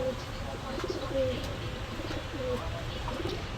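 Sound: pigeons cooing

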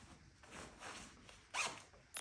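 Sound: zipping jacket pocket zipper with hyperlon zip pull

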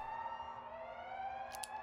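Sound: alarm going off in horror video game Neural Parasite

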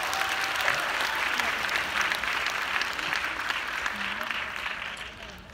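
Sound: audience applause at an entrepreneurs' congress

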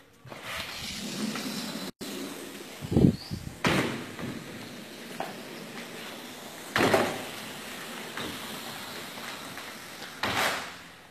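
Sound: sliding glass doors being opened

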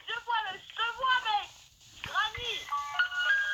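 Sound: mobile phone playing loud sound

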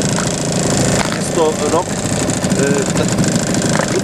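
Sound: small outboard boat motor running

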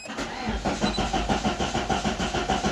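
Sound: Opel Calibra Turbo engine cold start

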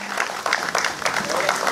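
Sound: audience applause

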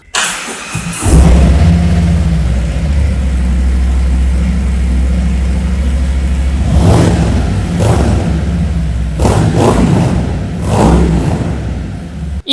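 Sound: Harley-Davidson motorcycle engine through aftermarket muffler

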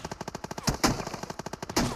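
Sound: gunfire in a battle royale video game

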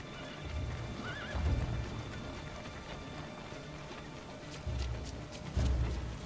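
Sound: horse neighing and hooves, video game

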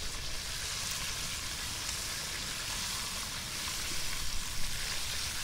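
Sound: Almaco Jack fish sizzling over a hot flame, being flipped

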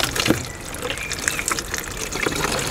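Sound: water running from a caravan cassette toilet into a container

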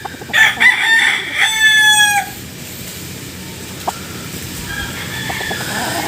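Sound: Brahma chicken rooster crowing

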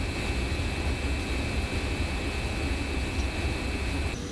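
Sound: vertical turbine slurry pump running

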